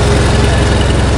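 A tractor engine chugs with a fast, steady low throb, close and loud, with a voice partly audible over it.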